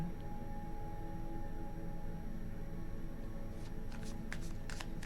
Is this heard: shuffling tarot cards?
yes